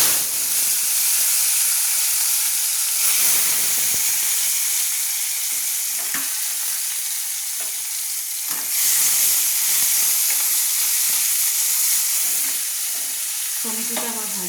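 Chopped tomato sizzles in oil already used for frying fish, a steady hiss of frying with intermittent scraping stirs, fairly close and without talk.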